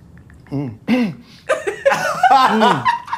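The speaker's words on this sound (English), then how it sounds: "He's gonna cough." A person coughs a few times after trying something spicy, amid laughter and excited chatter from others nearby.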